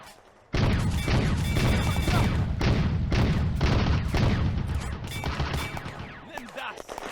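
Heavy, continuous gunfire from an Eastern Front battle for Dalnegorsk city centre in the game Firefight, set in June 1941, roars in dense overlapping volleys for several seconds before thinning out slightly near the end.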